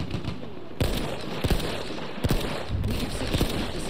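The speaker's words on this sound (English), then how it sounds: "Wild shots. Firing on the move." Gunfire while moving in Battlefield 1: several loud, close single shots at irregular intervals, each a sharp crack over a dense, noisy battlefield background.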